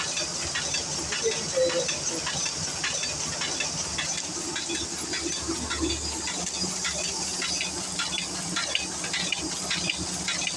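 A printing press runs off A4 flyers with a continuous mechanical hiss and rapid clattering, steady and fairly loud throughout, with no voices.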